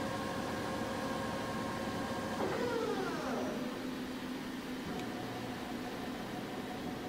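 A 2006 Kingston CL38C lathe runs with a steady hum and whine, its tone sliding downward partway through as the spindle speed changes, then settling into an even drone.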